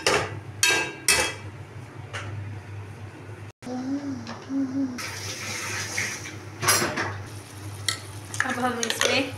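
Yogurt roasting in a pan for korma, a close sizzle and wet bubbling with scraping stirs and clinks of a spoon, a short break partway through, and a voice speaking briefly over it.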